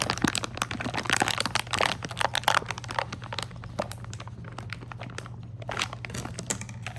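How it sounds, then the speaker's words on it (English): Plastic packaging around a set of letter crayons being worked open by hand without scissors, giving dense, irregular crinkling and crackling at close range under a low steady hum. "Let's see how we're gonna open this without the scissors, Sophia."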